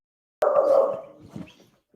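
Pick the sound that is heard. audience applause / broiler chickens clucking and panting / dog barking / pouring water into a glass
dog barking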